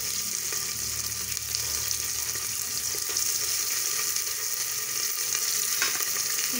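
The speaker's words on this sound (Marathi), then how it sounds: "इथे आपल्याला कांदा छान असा गुलाबी रंगाचा होईपर्यंत परतून घ्यायचा आहे।" Onion for masala rice fries in hot oil, keeping up a steady, loud sizzle throughout, broken by faint scraping from stirring.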